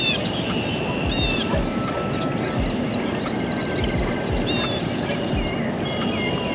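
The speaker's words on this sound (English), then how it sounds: "Listen at the birds chirping." Outdoor birdsong with repeated high chirps and calls over a steady low background rumble, some birds near, others farther off.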